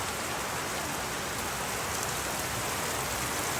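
Steady rain pours down outdoors, a dense even hiss of drops hitting surfaces with no pauses and no voices.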